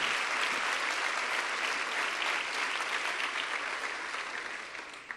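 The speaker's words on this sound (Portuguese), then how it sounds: "Vamos aplaudir a Ele, porque Ele é maior." An audience at a church event claps steadily in a long, even round of applause that fades slightly at the end, with no speech over it.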